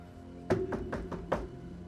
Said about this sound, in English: You knock.